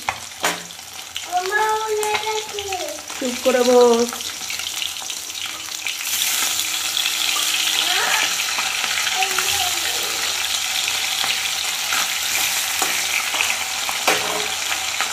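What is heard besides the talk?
fish frying in a pan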